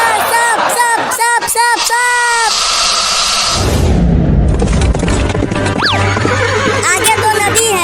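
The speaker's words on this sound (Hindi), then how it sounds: "हाँ, चल मेरा घोड़ा" A horse whinnies in a comic rural chase scene near a river, with loud falling-pitch neighs over music, crowd noise and booming effects that run throughout the clip.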